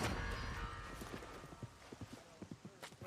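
Horse hooves clip-clopping in the video game Red Dead Redemption 2, a quick run of evenly spaced soft thuds at moderate distance over faint ambient game noise.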